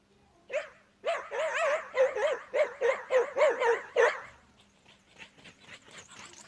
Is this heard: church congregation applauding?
no